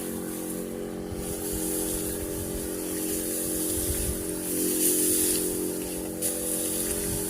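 A crop sprayer pump runs steadily while spraying a rice field along a road on the final spray before harvest, giving a continuous mechanical drone with a hissing spray layered on top, fairly loud and even throughout.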